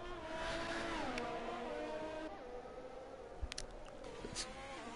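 A Ferrari Formula 1 car engine on a hot lap around the Singapore circuit in F1 2020, a steady high-pitched whine sweeping up and down through gear changes, with a couple of brief clicks partway through.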